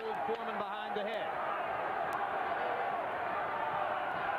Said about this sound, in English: This is the German crowd here that is chanting and making the raucous noises that punctuate the end of each round